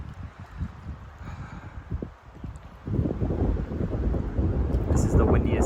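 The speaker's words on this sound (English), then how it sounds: "This is the windiest it's ever gotten right now" Strong gusts at a mountain lake campsite in the Eastern Sierra rumble and buffet the microphone, easing briefly and then building into a steadier, louder roar.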